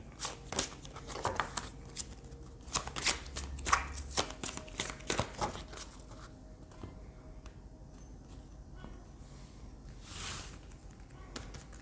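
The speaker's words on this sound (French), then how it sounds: "on va tirer d'autres cartes des arcanes mineurs du tarot." Tarot cards are shuffled and drawn close by: a run of crisp riffling and slapping card sounds, then softer scattered slides and taps as cards are laid down, fairly quiet, with no talking.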